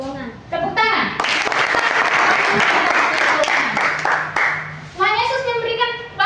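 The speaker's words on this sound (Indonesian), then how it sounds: "Tepuk tangan." Schoolchildren clap together in a classroom during a Christian religious education lesson, a burst of applause lasting a few seconds, with a voice and an adult speaking before and after it.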